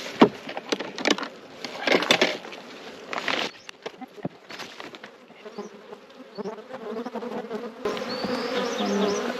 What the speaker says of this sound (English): There's a few bees milling around